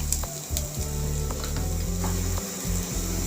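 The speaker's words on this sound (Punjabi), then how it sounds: "ਪਿਆਜ਼ ਨੂੰ ਆਪਾਂ ਹਲਕਾ ਬਰਾਊਨ ਕਰ ਲਾਂਗੇ" Onions browning in hot oil in a pan for bread pakoda filling give a steady, loud sizzle with a low rumbling undertone and occasional stirring knocks throughout.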